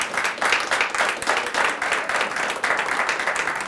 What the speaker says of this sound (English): Give Dr. Ball another round of applause if you would.